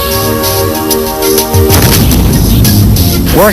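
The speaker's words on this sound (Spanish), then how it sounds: "Junto con los ingenieros expusimos aquel modelo de ventana a una explosión para saber si se comportaba según se diseñó" An explosion blast test on a window model built with army engineers, heard as a loud, full boom and crash that rumbles through the whole clip over a sustained tonal hum.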